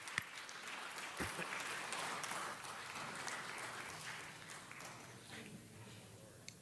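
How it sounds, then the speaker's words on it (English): A city council meeting crowd claps for Jerry Miller, the CLA, in a fairly faint, sustained round of applause that holds steady for several seconds before thinning out near the end. "Let's give a round of applause to our own CLA,"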